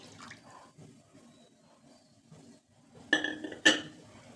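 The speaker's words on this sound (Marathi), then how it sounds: "हरभरा डाळीमध्ये सुद्धा पाणी घालायचे भरपूर." Water poured into chana dal in a metal pot, quiet at first, then two sharp bursts of splashing and clinking against the vessel near the end, no talking.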